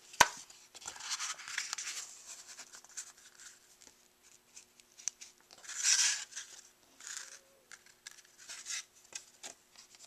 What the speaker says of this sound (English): I'm going to go ahead and use my bone folder and get this